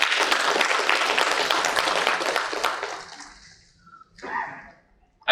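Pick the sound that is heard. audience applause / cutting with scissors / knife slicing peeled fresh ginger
audience applause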